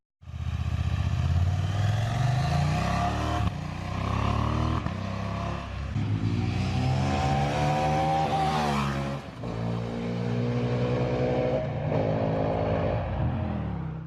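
A KTM 790 Adventure motorcycle engine revs close by while riding, climbing in pitch through repeated accelerations with brief drops between gear changes, loud and continuous with no talking.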